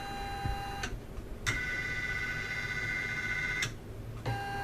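An MB4 embroidery machine fitted with a J hoop traces the hoop outline, its motors giving a steady whirring whine that shifts pitch between several movements, with short clicks at each change of direction.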